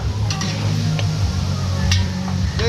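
A large pot of pork bubbles and simmers at a steady boil, with a few light clinks and taps of a utensil against it.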